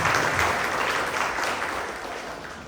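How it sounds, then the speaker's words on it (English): Lecture hall audience claps for a guest speaker on startup law, a full round of applause that is loud at first and slowly tapers off. "Please big round of applause"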